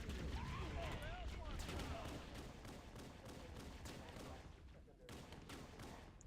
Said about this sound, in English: It's a 60 round AR that's literally just a wall of bullets.